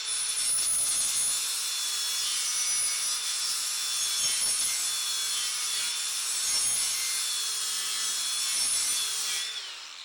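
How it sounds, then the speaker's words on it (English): Angle grinder cutting a bevel onto steel while building a welding table, a continuous, loud, high-pitched abrasive whine held for about ten seconds with slight changes in pressure, close and with no talking. "I think I'm just going to put a bevel right here, maybe a quarter of the way down"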